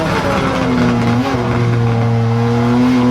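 A RUF CTR Yellowbird race car being driven on a track in third gear through a corner. Its engine holds a loud, steady, sustained note that dips briefly and then climbs, with no talking over it.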